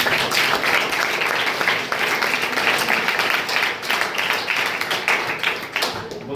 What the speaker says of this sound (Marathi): त्याबद्दल प्रथमतः सर्वांनी त्यांच्यासाठी टाळ्या वाजवायच्या.